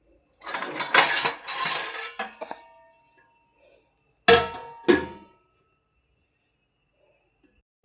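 Metal cookware clatters and clinks for a couple of seconds, then two sharp knocks follow as a rice pot is set down on the stove, near and fairly loud, with no talking.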